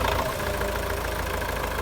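A Belarus 510 tractor engine runs at a steady idle nearby, a loud, even diesel rumble with a slight knocking throb throughout and no voices.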